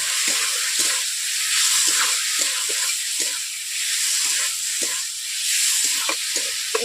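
Potatoes fry in oil in a pan for fish curry, giving a loud, continuous sizzle with repeated soft scrapes and knocks from stirring.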